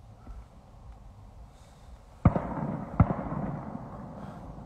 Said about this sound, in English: Hey, fireworks.